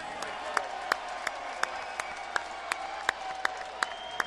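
Applause for Mike Tyson at a boxing exhibition, steady clapping from a crowd punctuated by sharp camera-like clicks at regular intervals.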